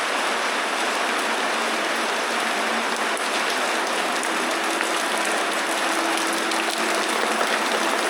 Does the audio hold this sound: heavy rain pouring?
yes